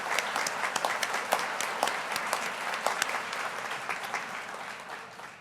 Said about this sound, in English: Let's give a round of applause for all our Distinguished Alumni Award recipients